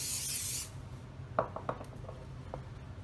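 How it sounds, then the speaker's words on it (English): A short hissing burst of cooking oil spray at the start, followed by a few light metallic taps and scrapes against a baking tray. "So I'm just going to give my tray a light spray of cooking oil."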